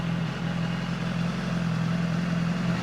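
A BMW S 1000 RR superbike engine idles steadily and close by, a low, even hum holding constant with no voices.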